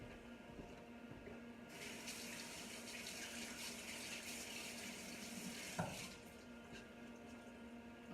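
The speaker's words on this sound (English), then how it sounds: "I'm going to give my hand a wash." Hands are washed under a running kitchen tap while cooking, a faint steady stream of water with splashing as the hands move under it.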